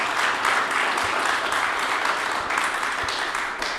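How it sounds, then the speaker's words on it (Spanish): A church audience at a Sunday celebration applauds its elderly members, a continuous, even wash of clapping from many hands that holds steady throughout. "Esos son ustedes y merecen un aplauso"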